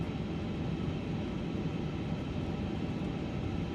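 An airliner takes off in Microsoft Flight Simulator 2024 with a steady, loud engine roar and a low rumble that holds constant throughout. No talking is heard.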